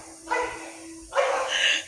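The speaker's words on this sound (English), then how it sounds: "As you can see, the dogs are barking." Dogs barking in a village, two bursts of barking at moderate distance separated by a short pause, with a steady low hum underneath and no talk.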